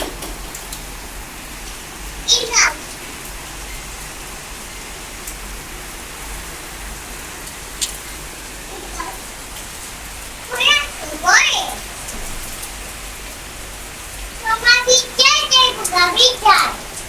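Heavy rain falling in Dhaka, a steady close hiss of drops hitting surfaces throughout, with a voice and other voices breaking in briefly now and then.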